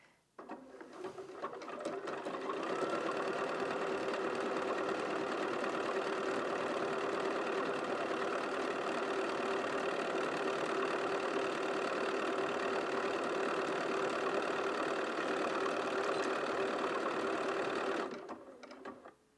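A Bernina 475 QE sewing machine embroiders lettering, its rapid steady stitching whir ramping up, running evenly and close for about fifteen seconds, then winding down.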